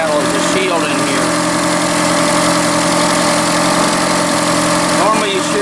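A 1982 third-generation Camaro fitted with a fuel cell runs after its first start in 20 years, a loud, steady engine drone that stays constant throughout, with a voice speaking over it.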